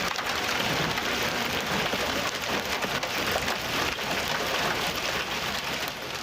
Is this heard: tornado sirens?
no